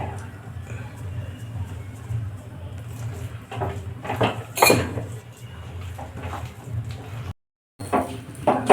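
A radish and rice flour mixture is stirred in a pan over a medium gas flame, giving continuous close scraping and clinking of the spoon against metal with a few sharper knocks and a brief gap.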